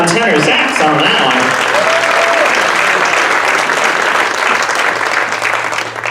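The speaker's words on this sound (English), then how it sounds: "a round of applause for Alyssa Young on tenor sax on that" Sustained audience applause for a tenor saxophonist with a jazz band, loud and steady throughout, with a few voices rising briefly over the clapping near the start.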